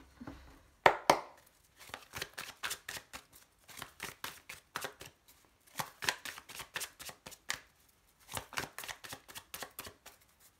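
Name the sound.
shuffling tarot cards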